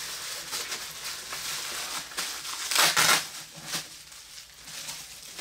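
Plastic and cardboard packaging around a custom NECA Jason Voorhees action figure crinkles and crunches as it is opened, with irregular close rustles and one louder crushing burst partway through.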